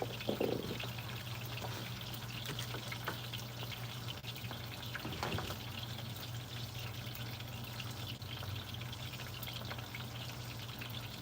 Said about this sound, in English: I'm frying my fish